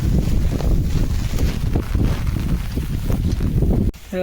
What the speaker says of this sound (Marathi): काय वादळ लागता, वारो डेंजर